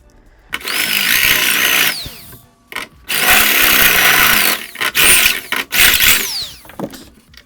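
A loud, close power drill whines at high speed in several long bursts with brief pauses, its pitch dropping as each burst ends, grinding into aluminium while installing a Lowrance Elite Ti2 fish finder.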